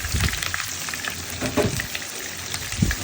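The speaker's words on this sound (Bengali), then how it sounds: "পেঁয়াজ দেওয়া হচ্ছে, বেরেস্তা করার জন্য পেঁয়াজ করা হচ্ছে আর কি।" Chopped onions fry steadily in hot oil for beresta for a desi chicken biryani, giving a continuous close crackling hiss broken by occasional soft stirring bumps.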